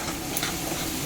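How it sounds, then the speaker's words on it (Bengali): Chital fish sizzles steadily as it fries in a pan, a dense close hiss with faint stirring, heard alone and unbroken for a moment. "এই যে এখানে ভাজি হচ্ছে গিয়ে তোমার চিতল মাছ"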